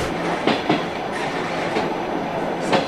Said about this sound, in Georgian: ჩვენ მატარებლით აეროპორტიდან სადგურამდე ვიმგზავრეთ